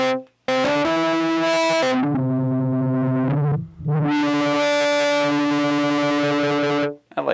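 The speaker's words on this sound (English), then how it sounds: "You get the distortion." A Novation Peak synthesizer played with heavy, nasty distortion, loud sustained buzzing chords with bright gritty harmonics, held in long swells broken by two short gaps and a final cutoff.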